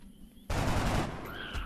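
A single loud gunshot fired at an alien in XCOM: Enemy Unknown, a sharp, close blast that rings out for about half a second before fading into a quieter game ambience.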